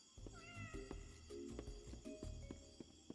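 A cat meows several times in the Indigo Park video game, faint and drawn out, over a soft ambient game background with light clicks.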